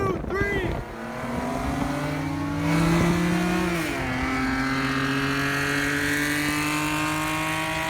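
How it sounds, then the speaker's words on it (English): Car engines rev and drone loudly with rising and shifting tones as vehicles accelerate during street racing, a steady roaring presence close by, with some voices mixed in. "But this is street racing."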